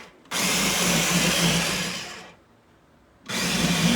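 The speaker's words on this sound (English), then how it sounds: "put it through a blender" A blender pureeing cooked apples gives a loud, steady motorized whir for about two seconds, drops away briefly, then starts up again at full strength.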